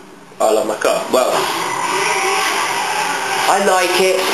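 A car engine in Need for Speed Most Wanted on PS2 revs up sharply and holds a loud, buzzing whine, with pitch sweeps at gear changes and someone talking over it.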